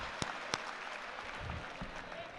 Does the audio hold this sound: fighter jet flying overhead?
no